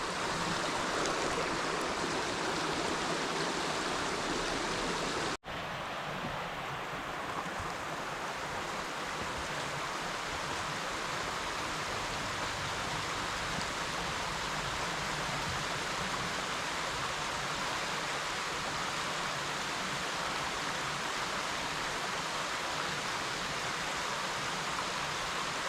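A stream flowing under the Poinsett Bridge gives a steady, full rush of water that keeps up for the whole stretch with only one brief dip, no voices over it.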